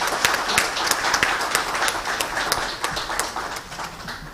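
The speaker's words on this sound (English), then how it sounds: "give everybody a big round of applause for being here with us today" A crowd applauding, with dense, steady clapping and sharp individual claps standing out, sustained throughout with no voices.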